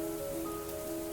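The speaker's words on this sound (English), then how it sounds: "The sound of rain was so annoying." Steady rain hisses faintly and evenly, with sustained soft musical tones held over it.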